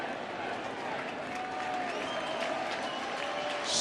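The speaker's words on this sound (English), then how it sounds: "as this crowd tries to cheer him on" Crowd at a 2019 World Series Game 3 baseball stadium cheering and applauding steadily throughout, a dense continuous roar that swells slightly toward the end, with an announcer's voice faintly underneath.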